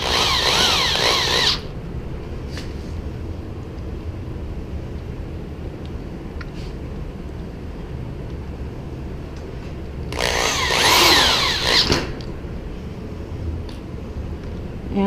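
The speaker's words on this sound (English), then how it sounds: "I'm just attaching this other screw." A power drill drives a screw into a trap gate in two short bursts of buzzing whir, one at the start and another about ten seconds later. A quieter background hum and faint handling noises fill the gap between them.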